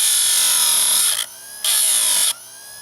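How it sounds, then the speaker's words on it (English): A Harbor Freight chainsaw sharpener's grinder wheel grinding a chain's cutter teeth, two loud, close, high-pitched abrasive whines of about a second each separated by a short pause while the motor hums. "Bring the grinder wheel down."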